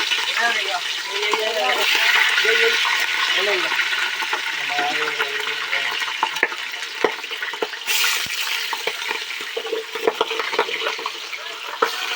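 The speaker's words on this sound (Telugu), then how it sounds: "ఇప్పుడైతే మనమైతే ఈ చికెన్ అయితే నాటుకోడి అయితే వేసేస్తున్నా." Country chicken pieces dropped into hot oil in a pot, producing a loud, bubbling sizzle that is strongest at first and settles into crackling spits and pops, with a few clatters of the pieces against the pot.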